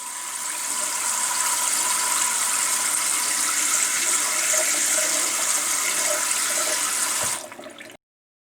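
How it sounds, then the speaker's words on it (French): A tap runs with a loud, steady rush of water for about seven seconds, then cuts off abruptly, with no voices. "L'eau coule au robinet"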